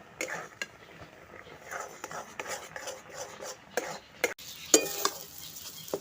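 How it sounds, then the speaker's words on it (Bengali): Semolina being stirred into milk in a pan gives a soft, steady scraping and swishing close by, with faint clinks of a spoon against the pan and a few sharper knocks near the end. "দিতে থাকছি আর নাড়তে থাকছি সুজিটাকে"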